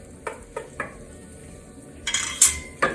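Several light clattering knocks of carrot pieces dropping into a metal pot, followed by a brighter scraping clatter near the end.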